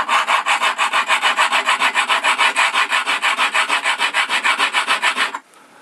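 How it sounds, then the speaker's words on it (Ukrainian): A Stanley plane is rubbed back and forth on sandpaper laid over glass, making a fast, even rasping stroke about four times a second, loud and close, that stops abruptly near the end. "У мене є кусок скла з наждачкою і ми зараз тут трошки це підапгрейдимо"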